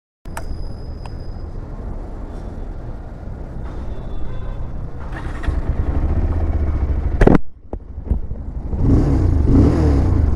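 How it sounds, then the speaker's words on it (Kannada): A Bajaj Pulsar 220F motorcycle exhaust rumbles while it is ridden. The low, steady engine note carries on with a couple of sharp clacks and a brief dip, then swells louder as the bike picks up speed. "ಎಕ್ಸಾಸ್ಟ್ ಸೌಂಡ್ ಈ ಥರ ಕೇಳಿಸುತ್ತೆ."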